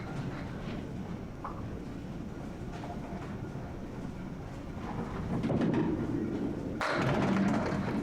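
A candlepin bowling ball rumbles steadily down the lane, then a sharp clatter of pins being knocked down is followed by scattered clunks, with low crowd ambience throughout.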